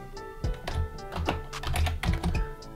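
Quick bursts of clicking keystrokes as code is typed on a computer keyboard, close and crisp with uneven rhythm and short pauses between clusters of taps, no talking.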